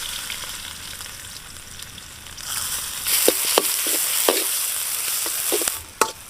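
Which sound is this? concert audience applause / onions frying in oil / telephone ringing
onions frying in oil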